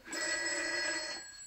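A telephone bell rings in one sustained, loud, close burst lasting about a second, then quickly fades out, with no voices.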